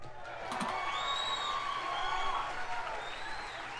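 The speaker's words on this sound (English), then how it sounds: "and the crowd erupts" A crowd at a wrestling show cheers and applauds steadily as a tag team championship match is introduced, a sustained wash of clapping and whoops with a few distant shouts.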